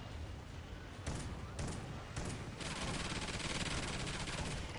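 Turret gunfire in the video game Extinction: a dense, continuous burst of rapid automatic shots with heavy thumps, steady and loud throughout without a break.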